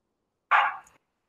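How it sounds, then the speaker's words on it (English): A dog gives a single sharp bark behind an online presentation, a short loud burst that trails off quickly, isolated against silence. "hopefully you don't hear any barking dogs in the background"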